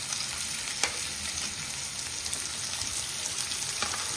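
Onions and green chillies sizzling in hot oil with mustard and cumin seeds, a loud, steady close-up crackle with occasional pops, no voices.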